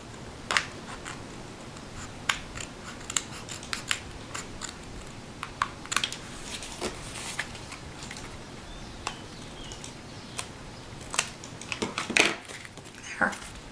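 Scissors or a paper trimmer cut the excess paper off a handmade card in a quiet room, making faint, scattered snips and light paper rustles over several seconds.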